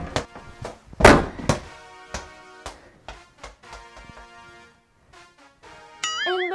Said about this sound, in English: Now we're going to try dunking on this mini hoop.